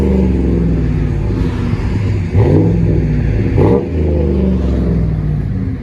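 A 2012 Chevy Silverado LTZ with a 5.3L V8 and Flowmaster Super 10 dual exhaust idles with a deep steady burble, then two quick blips of the throttle rise in pitch and fall back, heard close outdoors in the wind.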